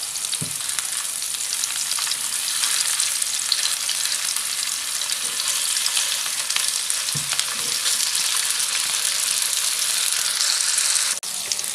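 Chicken seekh kebabs frying in a pan over a low flame, a steady close sizzle that holds evenly throughout, with a couple of soft knocks and a brief dip near the end.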